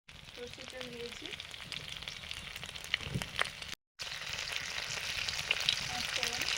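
Mustard oil sizzling and frying steadily in a pan while cooking vegetables for a curry, a continuous close crackle with a short gap partway and faint background voices.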